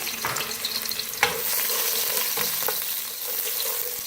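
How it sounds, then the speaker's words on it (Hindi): A small onion frying in half a cup of hot oil, a loud continuous sizzle close by with a few sharp spatter pops and light stirring scrapes. "ऑयल गर्म हो चुका हुआ है। इसमें प्याज शामिल करेंगे"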